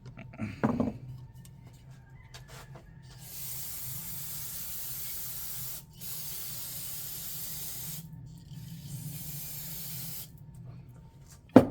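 Cleaner sprays onto the carburetor of a Kohler 6.5 hp engine on a Country Tuff wood splitter in a few long, close hissing bursts separated by brief pauses, following a short clatter of handling.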